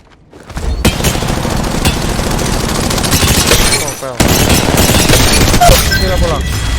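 Rapid gunfire in the video game Valorant, loud sustained bursts that break off briefly and then resume, with some in-game sounds mixed in.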